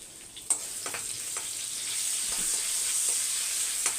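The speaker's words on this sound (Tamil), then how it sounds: "இப்போ கடுகு பொரிஞ்சோடனே கருவேப்பிலை." Mustard seeds and curry leaves splutter in hot oil, a close, hissing sizzle broken by sharp crackles and pops that grows steadier and louder as it goes.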